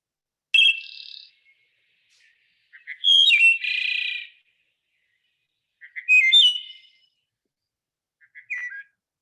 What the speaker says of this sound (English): Have you ever heard a wood thrush?